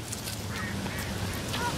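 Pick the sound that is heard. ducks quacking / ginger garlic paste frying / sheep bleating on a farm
ducks quacking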